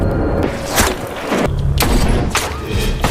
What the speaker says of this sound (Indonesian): Di saat lengah, Z langsung menembaki mereka.